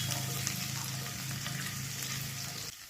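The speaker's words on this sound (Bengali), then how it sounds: "আদা রসুনটা লো ফ্লেমে 1 থেকে 2 মিনিট একটু ভেজে নেব" Chopped ginger and garlic frying gently in a pan over a low flame, giving a steady, even sizzle with a low hum beneath that eases off at the very end.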